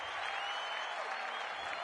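A crowd in the AFL 26 video game cheers and applauds in a dense, steady roar of clapping and voices that fills the short stretch without pause.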